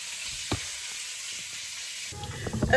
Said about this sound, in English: our short ribs have seared pretty nicely